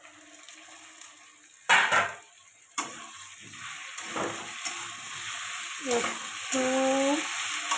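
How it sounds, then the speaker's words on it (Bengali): Tomatoes sauté in a pan for a Bengali fish and potato curry, with a steady sizzle and intermittent clinks and stirring scrapes of a spatula against the pan, close by, while a voice speaks briefly. "কষিয়ে নেব এটা।"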